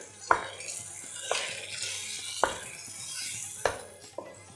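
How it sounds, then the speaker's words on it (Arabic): Spoon stirring curry in a cooking pot, a few soft clinks and scrapes repeating at roughly one-second intervals, fairly quiet. "هقلب كده"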